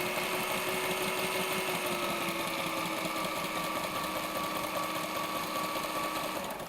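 Sewing machine stitching through fabric at a steady fast pace, its motor whirring and needle chattering continuously and close up with no talking, slowing slightly at the very end.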